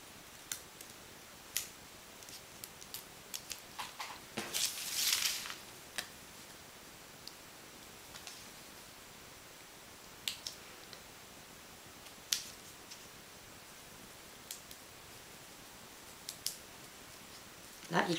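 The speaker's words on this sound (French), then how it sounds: "on va soigneusement découper chaque morceau en suivant le bord" Scissors snip carefully around the edges of straw pieces for a straw picture, giving sparse, sharp clicks and one longer rustling cut, close and quiet.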